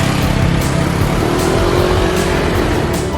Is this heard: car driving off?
yes